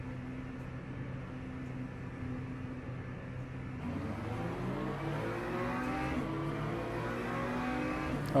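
A BMW race car in Le Mans Ultimate accelerates hard, its engine note climbing through the gears in rising sweeps after a steadier drone at the start, loud and close, with no talking.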